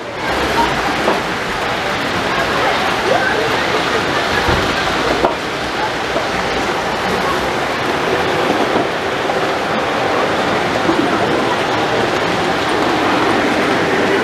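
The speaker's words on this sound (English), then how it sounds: "This exhibit, this is an S-scale train" An S-scale model toy train runs on its track at a toy train operating museum in Tucson, a steady close rumble with faint rail clatter that holds for the whole stretch.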